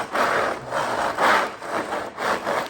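Rhythmic rasping strokes of a knife sawing through crusty sourdough bread, about five crunchy back-and-forth passes, close and fairly loud.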